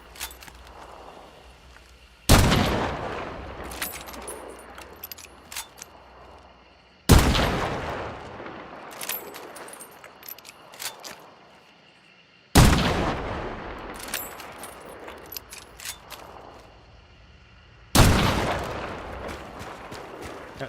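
Gunshots with explosive ammo in a video game, four heavy booming blasts spaced several seconds apart, each followed by a long crackling, rumbling decay, loud and close.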